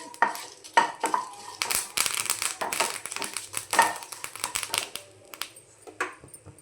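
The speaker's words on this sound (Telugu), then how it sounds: "కొంచెం కరివేపాకు అది కూడా కొంచెం ఫ్రై అవ్వాలి" Curry leaves frying in a pan with coriander seeds and cumin for pepper rasam, crackling and sputtering close up with irregular stirring clatter and scrapes, no voices.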